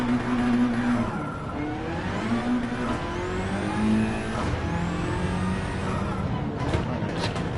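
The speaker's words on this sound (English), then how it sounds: "Must be spinning tires." Spinning, slipping car tires in Gran Turismo 7 racing, a steady droning engine with whining tire squeal rising and falling, close and continuous, no talking.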